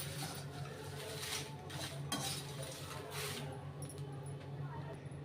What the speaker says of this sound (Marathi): हे सगळे मसाले आता परत एकदा हलवते